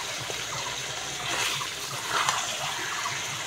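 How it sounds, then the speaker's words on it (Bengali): Water is poured into a pot of browned mutton curry, making a steady, moderately loud splashing pour that swells slightly midway and continues throughout without speech. "এবার আমি জল দিয়ে দেব"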